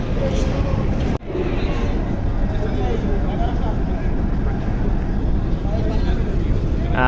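A passenger launch on a river between Barishal and Dhaka runs its engine in back gear, a loud continuous low rumble mixed with wind buffeting on the microphone and one brief dropout.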